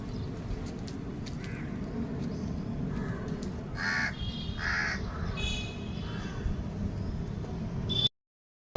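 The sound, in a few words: crow cawing in rooftop garden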